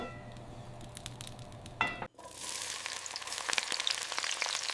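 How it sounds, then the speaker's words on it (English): Ingredients hit a hot pot over an open fire in a village kitchen in rural Iran, setting off a sudden loud sizzle that crackles and spits steadily after a brief pause. "The first sizzle is the true beginning of the meal."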